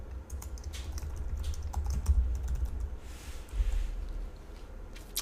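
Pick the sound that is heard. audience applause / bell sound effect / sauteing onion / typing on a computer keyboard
typing on a computer keyboard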